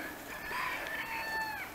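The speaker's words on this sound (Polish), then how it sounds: "Koguty pieją." Roosters crow outdoors near a town, one drawn-out cock-a-doodle-doo carrying clearly over a noisy open-air background, moderately close.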